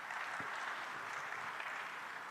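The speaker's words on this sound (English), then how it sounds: "Please, a round of applause to him." Soft, distant applause from a conference audience welcoming a speaker at the Africa50 shareholders' meeting and infrastructure forum, steady and faint for a couple of seconds.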